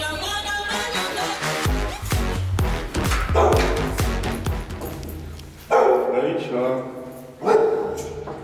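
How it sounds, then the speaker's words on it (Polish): A small dog barks and yips excitedly while jumping toward the camera indoors, several sharp close barks mixed with thumps and people talking. "zobaczcie też pieska Frejkę, jak będzie skakać do kamery"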